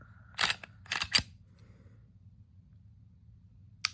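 Crisp, close mechanical clicks from a Glock pistol's trigger and reset, a quick pair and a single click, then silence before one last faint click; no talking.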